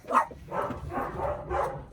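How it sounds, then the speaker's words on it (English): Dogs bark in several quick rough woofs at moderate distance, indoors behind a quiet room tone, with no speech over them. "I have dogs barking"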